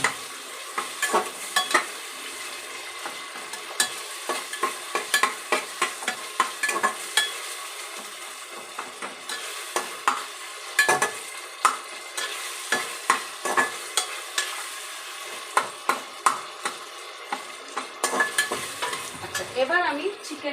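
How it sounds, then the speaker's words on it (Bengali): Masala being stirred and fried for a chicken curry in a pressure cooker, with steady sizzling under a run of repeated spoon scrapes and clinks against the pot, close and continuous throughout. "তো জাস্ট মশলাটা ভালো করে কষাবে।"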